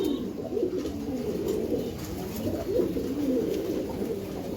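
Giribaz pigeons coo steadily in a low, rolling murmur, several birds overlapping close by with no pauses, a soft continuous warble that swells and dips slightly throughout.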